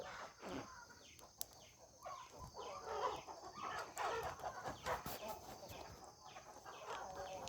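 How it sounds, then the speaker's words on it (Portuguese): A chicken clucks faintly outdoors beside a bonfire. Scattered soft clucks sit under quiet, distant voices and low background noise. "Esse barulho, gente, é de galinha mesmo."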